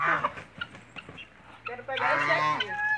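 A heavy rooster of about five kilograms, held by hand, gives short clucks and squawks in uneven bursts, close to the microphone, with people talking over and between the calls.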